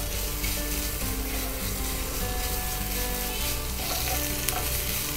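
Ginger garlic paste fries in a pan for street-style aloo chaat, a steady loud sizzle with soft stirring scrapes running throughout, no voices.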